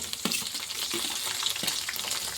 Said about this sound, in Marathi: कांद्याला पण हलवून घ्यायचं आपल्याला